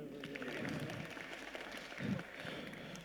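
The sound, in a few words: audience applauding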